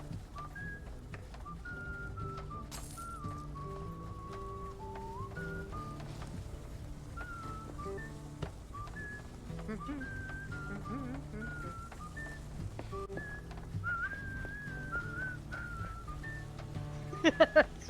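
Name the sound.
a person whistling a tune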